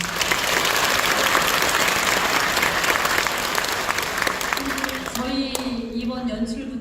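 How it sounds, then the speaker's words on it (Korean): Audience applause for the members of a Buddhist choir at a founding concert opening ceremony, dense and sustained for several seconds before tapering off as a voice begins speaking near the end. "우리 단원들을 위해서 먼저 박수 좀 부탁드립니다"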